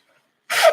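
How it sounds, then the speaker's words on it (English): A single short, sharp sneeze bursts out close to the microphone after a moment of silence, breathy and loud, trailing off quickly. "I got to sneeze, y'all."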